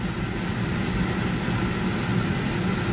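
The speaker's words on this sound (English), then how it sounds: "I'm running a Dremel flex shaft. I'm going to do a Kutzel Extreme Taper burr." A Dremel 4300 driving a flex shaft with a Kutzall Extreme taper burr carves wood for a pumpkin, giving a steady, dense motor whir and grinding rush that stays even and close throughout, with no voices.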